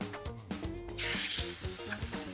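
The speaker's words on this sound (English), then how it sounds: "That sizzle is the best sound ever" Beef rump cap fat sizzles and crackles in a hot pan, a steady hiss with small pops and scraping knocks, close and fairly quiet.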